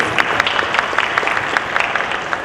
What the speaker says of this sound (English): Can we get a round of applause for these guys, please?